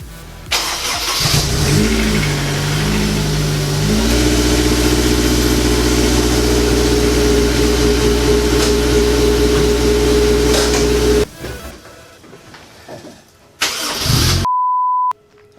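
A Honda S2000 starts after a clutch install, cranking briefly and then catching into a loud, steady idle that runs for several seconds before dropping off, with a short electronic beep near the end.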